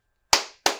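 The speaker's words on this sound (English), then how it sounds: "Round of applause." Two sharp, crisp hand claps land about a third of a second apart, each ringing off in a short decay, loud and close with no talking.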